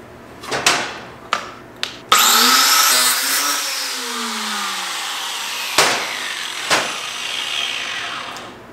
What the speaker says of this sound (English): if you're new to angle grinders, probably don't put a 6-inch wheel on it